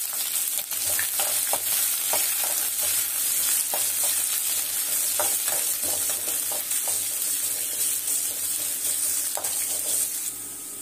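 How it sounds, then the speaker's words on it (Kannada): Onions frying in a pan with urad dal, curry leaves and green chillies for tomato chitranna, a steady close sizzle broken by repeated stirring scrapes throughout. "ಈರುಳ್ಳಿ ಚೆನ್ನಾಗಿ ಫ್ರೈ ಆಗಿದೆ"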